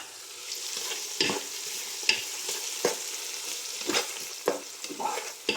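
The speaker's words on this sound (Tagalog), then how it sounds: "Ngayon naman ay mag-start na tayong maggisa." Ingredients being stirred and sautéed in a hot pan for stir-fried mung bean sprouts, with a steady sizzle broken by repeated scraping strokes of a spatula, close and alone.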